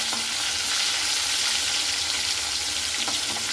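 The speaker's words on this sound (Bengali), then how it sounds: "তো আমি কিন্তু দুই ব্যাচে মাছগুলো ভেজে নেব" Snakehead fish fry in hot oil in a pan, cooked in batches and turned so both sides brown. A loud, steady, close sizzle hisses throughout with no talk.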